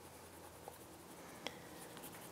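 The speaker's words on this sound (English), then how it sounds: "You just use your pencil very lightly and just shade." A pencil lightly shades on paper with soft, faint scratching strokes, quiet and close, with a couple of tiny ticks and no talking.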